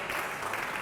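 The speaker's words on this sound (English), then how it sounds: "We can clap for him." Audience clapping at a CEO leadership forum, a brief, steady wash of applause from the room at moderate distance.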